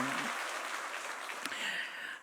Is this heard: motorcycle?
no